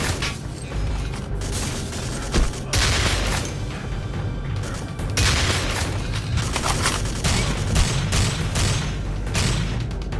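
Shotgun blasts in the video game Alpha Prime, fired at robot enemies, ring out as loud, repeated booms over a dense, continuous wash of game noise and gunfire.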